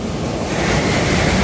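Rising sea waves surging and crashing, a loud, continuous broadband roar with heavy wind buffeting the microphone and no voices.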